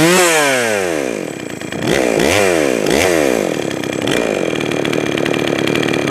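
A Jonsered 525 chainsaw runs close and loud, its engine blipping up and down through several quick revs before settling into a steady, slightly rough idle.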